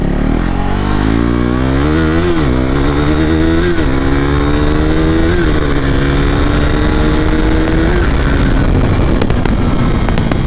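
A KTM RC 390 motorcycle engine revs up repeatedly, pitch climbing in several pulls as it accelerates, loud and close throughout.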